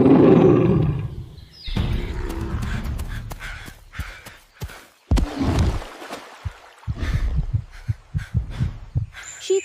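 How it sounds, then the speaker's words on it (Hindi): A lion roar in a children's cartoon story: a deep, loud roar opens, followed by a run of heavy thumps and rumbling animal sounds. "उसकी दहाड़ इतनी भयानक थी कि सुनकर ही छोटे जानवर और हिरण कांप जाते थे"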